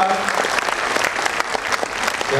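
An audience claps together at a minister's launch event, a dense, steady round of applause lasting a couple of seconds with no voices over it.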